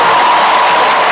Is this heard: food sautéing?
no